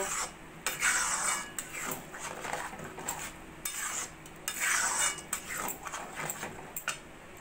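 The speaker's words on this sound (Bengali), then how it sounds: "কাঁচা লঙ্কা আর গরম মশলার গুঁড়োটা ভালো করে মিশিয়ে নেব।" Spoon stirring dalia khichuri in a pot as slit green chillies and garam masala powder are mixed in, giving repeated scraping and clinking strokes in a steady rhythm, close and fairly loud, with no talking.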